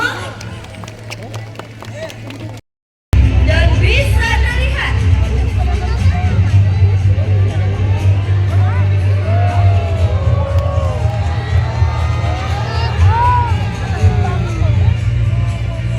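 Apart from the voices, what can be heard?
audience clapping and cheering at a bird show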